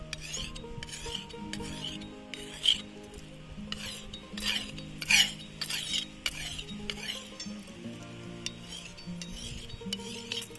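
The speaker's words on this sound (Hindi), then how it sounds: "ये पत्थर होता है दराटी तेज करने के लिए" A sickle blade rasps back and forth against a sharpening stone outdoors in a Himachal village, a close, gritty scraping in uneven strokes with a few louder swipes.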